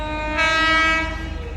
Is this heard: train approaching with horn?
yes